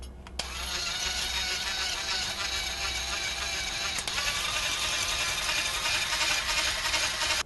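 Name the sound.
electric battery-powered whisk beating sauce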